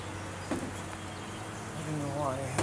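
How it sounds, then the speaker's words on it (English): A swarm of bees crowds onto a lid, giving a soft continuous buzzing hum heard close by with a few faint clicks and brief voices over it. "There's lots of bees on that lid."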